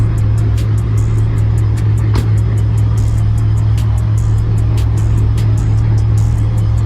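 Car engine idling with a deep, steady rumble, close and loud, with faint clicking ticks repeating over it; no talking.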